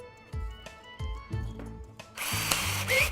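A power drill whirs in several short bursts, each spinning up and cutting off, ending in a louder, rougher grinding as the bit bores a pilot hole into wood.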